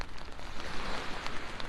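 Steady rain falls at a Jersey Shore beach ahead of Hurricane Ian, a dense, even hiss of drops lasting throughout, close and fairly loud, with no voices.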